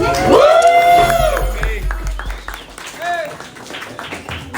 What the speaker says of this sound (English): Let's get a round of applause for May